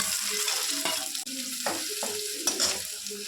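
Onion and garlic masala sizzles in a pan with stirring, a close frying hiss broken by scraping strokes and occasional clinks of the utensil.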